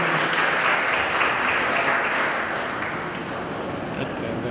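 An audience applauds at a community ceremony honoring guests, a sustained wash of clapping that fades slightly toward the end.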